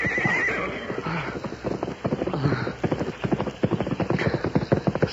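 A horse whinnies and its hooves clip-clop in a steady approaching rhythm, with the neigh up front and the hoofbeats quickening and growing louder as the horse rides in, in an old radio western drama.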